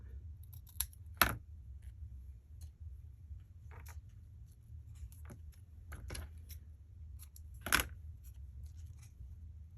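Scissors snip a few times close by, two sharp cuts standing out among smaller clicks over a low steady hum, with no voices.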